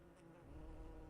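Bees drone in a low, steady buzz that swells slightly over a brief moment, a looping insect sound effect from the RPG Maker game The Hunt - Rebuilt.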